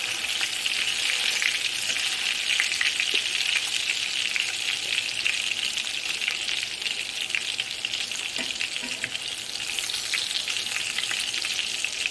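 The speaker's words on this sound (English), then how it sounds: "I'm just going to give this meat a few more minutes to sear on each side." Meat patties for Salisbury steak sear in a hot greasy pan, producing a loud, unbroken close-up sizzle that holds steady throughout, with faint crackles and no talking.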